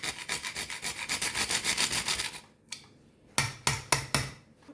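A pepper mill is twisted over a baked spinach and sweet corn pasta in white sauce, making a fast run of close, gritty grinding crunches, then a pause and a few slower, separate cranks.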